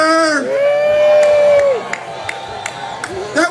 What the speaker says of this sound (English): That was not nearly enthusiastic enough of a cheer for an adult beverage